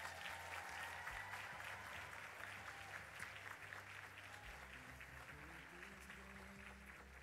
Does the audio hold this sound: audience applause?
yes